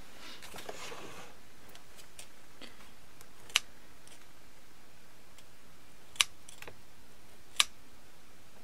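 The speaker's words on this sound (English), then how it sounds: "so I'm gonna leave this one and snip this one off." Small scissors snip off young pomegranate seedlings grown from seed. Three faint, sharp clicks sound a few seconds apart against quiet background hiss, with no talking.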